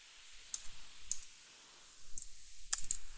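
A few crisp, sparse keyboard clicks while code is typed on a computer, heard close in an otherwise quiet room, with scattered single keystrokes and one brief cluster near the end.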